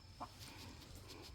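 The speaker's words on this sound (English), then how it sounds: "Sorry about the chickens in the background." Garden chickens cluck faintly in the background, with a couple of short, distant clucks over low outdoor ambience.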